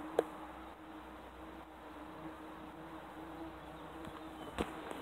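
Baldfaced hornets buzzing around a nest hanging low in a shrub, a faint steady insect drone with a couple of brief louder passes near the microphone.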